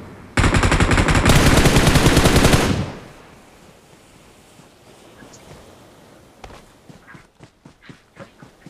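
Loud sustained burst of automatic gunfire in Battlegrounds Mobile India, a rapid continuous volley lasting a couple of seconds, followed by quieter scattered footsteps and small impacts.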